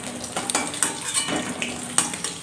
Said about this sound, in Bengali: এই দেখো মাছটা ভাজা হয়ে গেছে